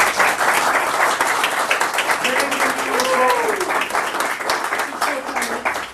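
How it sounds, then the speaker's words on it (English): A room gives Bill another round of applause, full steady clapping throughout, with voices and a brief sung or called tone rising over the crowd midway. "Let's give Bill another round of applause"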